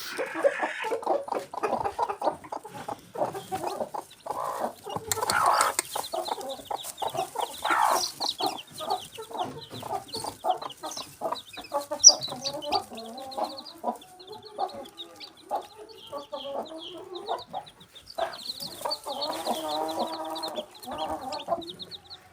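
Young local chicken chicks peeping and clucking near the drinking dish while being given warm water mixed with medicine, busy overlapping chirps throughout at close range with a few louder calls.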